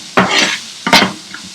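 Prawns sizzle in a pan in two short bursts of frying and stirring, each a brief crackling hiss with a scrape, separated by a quieter gap.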